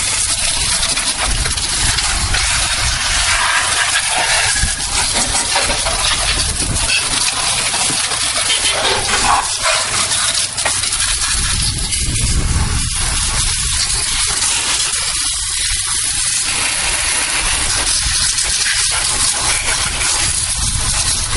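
Pressurized water spray rinsing degreaser off a car engine, a loud, continuous close-up hiss and gush of water striking metal that runs for the whole stretch without a break.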